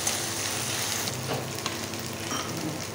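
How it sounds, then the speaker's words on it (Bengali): Ginger garlic paste frying in a pan for egg biryani: a continuous loud sizzle up close, broken by occasional stirring scrapes, with no voices. "এই যে আদা রসুনের পেস্ট দিয়ে দিচ্ছি"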